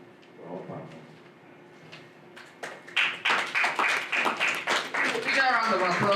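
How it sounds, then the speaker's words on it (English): A round of applause at a presentation swells from scattered claps into steady rhythmic clapping from a crowd, after a few quiet taps and murmured voices at the start. "Big round of applause for that"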